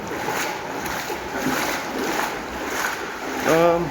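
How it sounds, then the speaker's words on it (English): Low river water sloshing and rushing steadily through an underground tunnel beneath Bristol, a continuous noisy wash with a voice briefly heard near the end. "Water levels very nice and low, very noisy, sloshing along."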